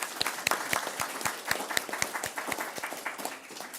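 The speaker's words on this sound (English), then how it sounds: "So one more round of applause for them for all your presentations." A small audience at a school board meeting claps in a sparse, fairly rhythmic pattern of distinct near claps, with fainter clapping filling in behind.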